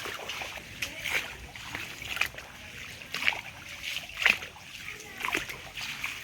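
Feet wade and splash through deep monsoon floodwater on the way to a submerged bridge, a rhythmic series of close sloshing splashes roughly once a second.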